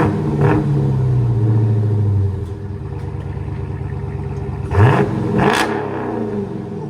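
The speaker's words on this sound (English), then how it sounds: "Here's the idle on it" Dodge Challenger Scat Pack with a 6.4L HEMI V8 and aftermarket exhaust idling with a deep, loping rumble, close by and loud. Two brief throttle blips rise out of it near the start and again toward the end, with no talk.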